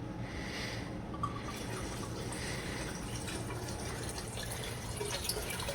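Liquid pours steadily from a whole bottle of Everclear grain alcohol while making apple pie moonshine, a continuous gurgling trickle with faint drips, close and alone throughout.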